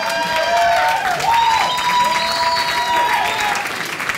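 Audience at a singing competition applauding in a sustained burst of dense clapping, close and loud, with sung or tonal sounds running faintly through it for about four seconds.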